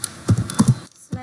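Typing on a computer keyboard while entering commands in Linux, a few quick clusters of close, crisp key taps separated by a brief pause, with no talking.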